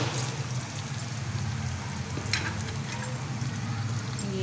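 Two medium onions frying in a pan with cooking oil, giving a steady low sizzle and bubbling that stays fairly faint and even, with no talking.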